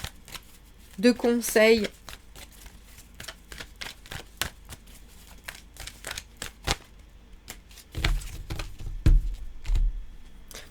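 Tarot cards shuffled and drawn during a French-language reading, a quick riffling burst early on followed by scattered soft card clicks and slaps, with a voice talking briefly over them.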